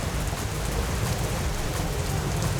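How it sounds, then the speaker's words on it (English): Steady rain falling and pattering on surfaces, a dense continuous hiss with a low rumble underneath, close and fairly loud for a few seconds, no voices. "Fantastic, and now it's raining."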